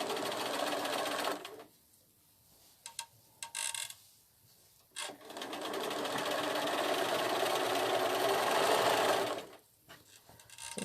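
A sewing machine fitted with a knee lifter stitches around a fabric edge, running in a short burst, stopping and starting, then a long steady run of rapid close mechanical chatter, with no talk.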